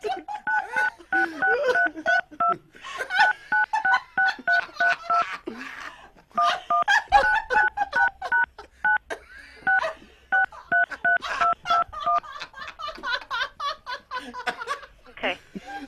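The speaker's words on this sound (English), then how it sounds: "Don't use your fingers to punch the numbers on the phone." Telephone keypad buttons pressed in repeated quick bursts of DTMF dialing tones during a prank call to a satellite TV provider, with talk and laughter running alongside.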